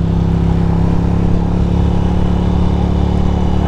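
Steady, loud drone of a Ducati motorcycle engine while riding on the highway toward New York City, a constant throaty hum with rumbling wind, no speech.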